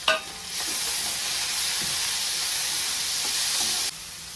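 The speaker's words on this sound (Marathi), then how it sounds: "तर मी ह्यात कढीपाला टाकून घेते आणि हे राहिलेलं टमाटर टाकते" Curry leaves and leftover tomato hitting reddened onion in hot oil for an egg bhaji, an abrupt loud sizzle that settles into a steady, close hiss before cutting off near the end.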